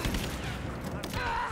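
Enemy gunfire in Rise of the Tomb Raider, a brief, dense rattle of shots mixed with other game sounds over a short stretch.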